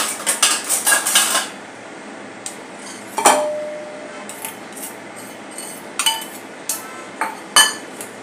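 Four boiled, mashed medium potatoes are moved into a large bowl. A spoon clinks and scrapes against the dish in quick bursts, then sparse knocks follow near and clear, with no voices.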